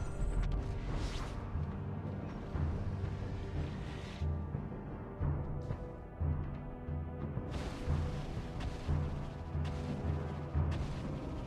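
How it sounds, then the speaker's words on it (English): In Mobile Legends, a turret is destroyed amid dense game combat effects: repeated booms and crashing hits rise and fall over a continuous bed of battle noise. "Your team destroyed a turret!"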